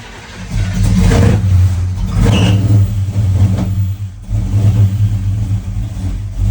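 A 1985 Chevy C10 engine on an Aces Killshot EFI system runs rough at a held throttle, a loud, steady low rumble with slight surges in revs and no one talking.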